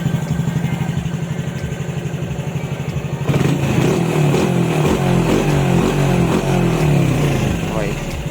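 A modified Honda XRM 125 fuel-injected motorcycle engine runs steadily, then jumps to a louder, higher rev partway through and keeps revving hard and close.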